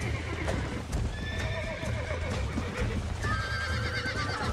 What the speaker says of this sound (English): Don't let it buck you, Mr. Marston.